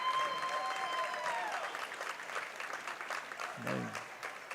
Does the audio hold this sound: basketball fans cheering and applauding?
yes